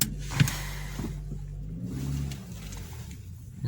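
A Toyota Corolla 1.6 with a petrol and LPG engine and manual gearbox pulls away slowly, its low engine hum steady and close, with a brief thump early on.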